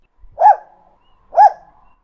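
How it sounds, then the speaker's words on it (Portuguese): A dog from a children's detective story gives two clear, separate barks about a second apart, close and loud against a silent background. "Ela latiu."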